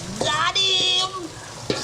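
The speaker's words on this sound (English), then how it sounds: "So stir up this" Stew peas with bird meat and chicken feet being stirred as they fry in a pot, a few scraping strokes of a spoon against the pot over a soft sizzle.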